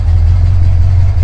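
An air-cooled VW Beetle engine idles steadily with a deep, loud, rhythmic thrum, close by and with no other sounds.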